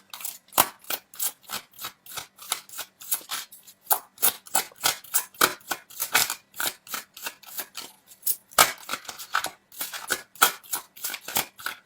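Tarot cards are shuffled and drawn in a steady run of crisp, rapid riffling snaps and flicks, close and fairly quiet, with no talking.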